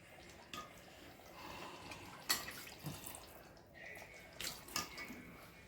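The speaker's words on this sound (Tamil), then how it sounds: "தண்ணி ஊற்றுறேன்." Water pours into a mixer jar in a quiet kitchen, a faint trickle with a few soft splashes and clinks.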